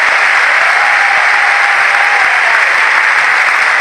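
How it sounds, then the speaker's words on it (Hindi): Loud, sustained applause from a large audience at a program event, a thick unbroken roar of clapping that stays at full strength throughout with no gaps or voices. "एक बार हम सबको मिलकर के बहुत जोरदार तालियों से यूएस का धन्यवाद करना चाहिए"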